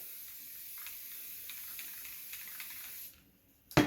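Steady spray paint hiss from an aerosol can while making model cedar trees, a continuous airy spray for about three seconds with faint pulses before cutting off, then a short clatter.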